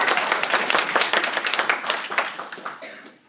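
An audience at a speech breaks into applause, a dense wash of clapping hands that peters out after about three seconds.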